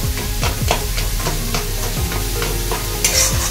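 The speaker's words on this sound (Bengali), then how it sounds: "ফুলকপিটা মোটামুটি এখানে ভাজা হয়ে গেছে। অল্প ভাজলেই হবে, খুব বেশি ভাজার দরকার পড়ে না।" Cauliflower florets fry in oil in a pan for a cauliflower roast, a steady sizzle broken by repeated scraping strokes as the pieces are stirred, close and fairly loud throughout.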